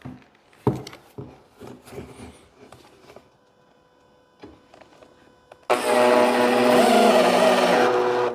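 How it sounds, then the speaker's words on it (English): Power driver sinking SDS screws through a quarter-inch steel plate into the back of a stair tread: scattered knocks and taps first, then a loud sustained motor whir in the last few seconds. "I'm going to be using these little SDS screws to help hold this in place."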